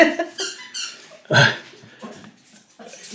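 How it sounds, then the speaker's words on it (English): A dog chews and squeezes a squeaky toy, producing a rapid series of high, uneven squeaks and squeals at close range with short pauses between bursts. "That's our dog squeaking away her squeaky toy."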